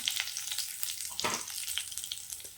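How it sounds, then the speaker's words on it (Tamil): Mustard seeds, urad dal and curry leaves sputtering in hot oil in a kadai, a busy crackling sizzle with a few sharper pops and a stir, close and moderately quiet, no talking. "கடுகு உளுத்தம் பருப்பு சேர்த்துக்கலாம். கருவேப்பிலை சேர்த்துக்கலாம்."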